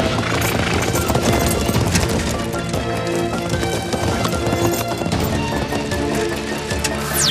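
Hooves clip-clop rapidly as a cartoon horse gallops, a loud, dense drumming rhythm with scattered clatter running throughout, layered over busy background effects with no talking.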